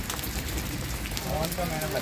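Steady rain hisses down during a storm over a mountain village in Pauri Garhwal, Uttarakhand, a dense close wash of drops on surfaces, with a faint voice briefly audible beneath it.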